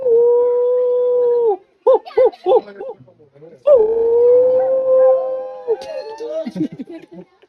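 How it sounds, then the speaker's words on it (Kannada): Wild dogs at a safari park howl in long sustained tones, broken by a burst of short yips and yelps, then howling resumes with whimpers trailing off. "ಕಾಡ್ ನಾಯಿ ನೋಡಕ್ಕೆ ಹೆಂಗ ಆಟ ಆಡ್ತಾವೆ ಎರಡು"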